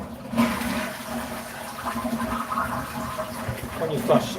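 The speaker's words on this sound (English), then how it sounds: "Got one of those cool sort of space age toilets, and when you flush" A Japanese high-tech space-age toilet flushes at a 7-Eleven, a loud, close rush of swirling water running continuously from start to end.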